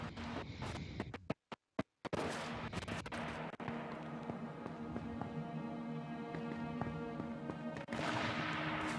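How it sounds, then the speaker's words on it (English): Gunfire in the battle royale game H1Z1 near a housing estate, a run of sharp shots early on with a silent gap, then a steady dense crackle of distant shots continuing throughout. "Lots of gunshots."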